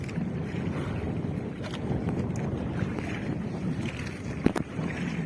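Steady rushing wind and water noise from an outrigger boat moving quickly in strong wind, with a few brief knocks and thumps.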